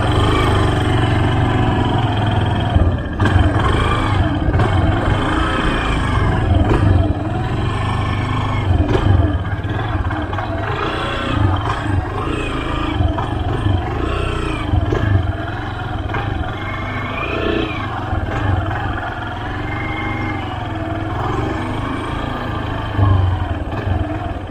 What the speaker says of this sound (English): I like hearing your clutch slip.